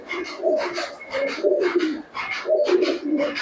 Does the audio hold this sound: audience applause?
no